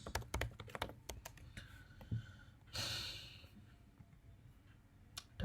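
A search query is typed on a computer keyboard in a few quick bursts of close keystrokes, followed by a soft breathy rush of air and faint clicks.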